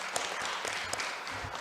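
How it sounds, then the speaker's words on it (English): Audience applause for a doctor at a health forum in Tanzania: a short burst of steady clapping from a seated crowd at moderate volume. "Big round of applause for Daktari."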